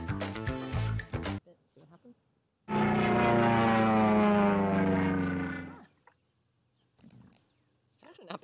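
A small propeller rig set up to launch a paper airplane whirs with a steady, loud harmonic drone for about three seconds, framed by brief bursts of other noise before and after.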